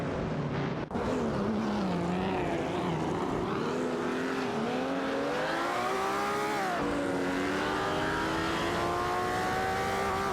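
Race cars in a racing video game scream past, their engines rising and falling in pitch through gear changes and corners, one loud, close machine dominating with others blending in behind.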